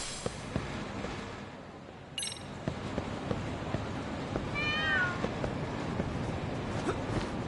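In the video game Lost Judgment, a cat gives a short, bright meow partway through, heard over a steady bed of game ambience and scattered clicks.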